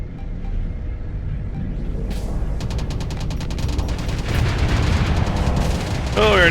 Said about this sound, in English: so I just started shooting.